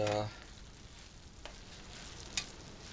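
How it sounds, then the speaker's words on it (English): Mexican rice with peas simmers in a pan, giving a faint, steady sizzle and soft bubbling crackle with a few light clicks, heard close and quiet without talk. "then we're going to let the rice continue to simmer probably another 10 minutes or so."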